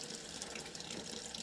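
Water runs steadily from an RV sink faucet during winterization, a continuous close hiss of flow with no breaks and no voices.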